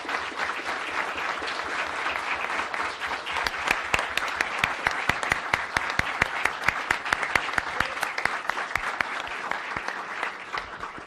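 An audience at a public hearing in Brazil's legislature on censorship breaks into loud, sustained applause, with dense clapping that swells toward the middle and keeps going for about ten seconds under faint crowd voices.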